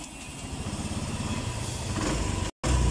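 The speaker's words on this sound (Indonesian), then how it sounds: "di sini kita coba menghidupkan motornya dulu" A Honda Beat scooter with an injector problem runs close by at a steady idle with an even low engine rumble, then a brief cut to silence before the engine sound comes back.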